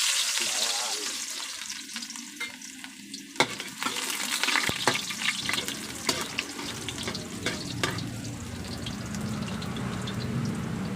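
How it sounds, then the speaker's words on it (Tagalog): Garlic hits a hot pan and fries with a loud, crackling sizzle, broken by clatters of stirring and scraping that come and go over a continuous hiss. "Mainit na yung kawali natin. Silagay na natin itong bawang natin."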